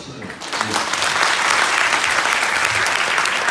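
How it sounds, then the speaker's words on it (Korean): An audience at a network-marketing business presentation breaks into applause that swells after a brief quieter start and then holds as steady, dense clapping. "박수 한번 주시죠."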